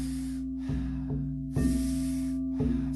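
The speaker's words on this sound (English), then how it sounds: "we're doing 40 powerful breaths into the body." Rhythmic, forceful nasal breathing from a Wim Hof style exercise during a yoga class: repeated sharp inhales and exhales in a steady cycle, close and clear over a constant low hum, with no talking.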